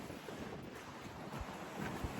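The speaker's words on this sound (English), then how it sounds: "Weirdly, it's an easterly wind coming up off the North Sea." Easterly wind blowing in off the North Sea beside a river, a constant broadband rush with heavy gusts thumping the microphone, no speech.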